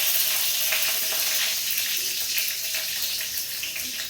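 Chili peppers dropped into hot oil in a small room kitchen, a loud, close, steady sizzle and crackle that fades a little over a few seconds.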